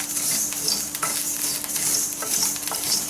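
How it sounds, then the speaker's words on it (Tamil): Food fries in a pan as it is stirred over low heat, a continuous sizzle running throughout with close, repeated scraping strokes of a spoon against the pan. "சிம்மில் வச்சு கிண்டிக்கங்க. கறி போயிடாமல் கிண்டிக்கங்க."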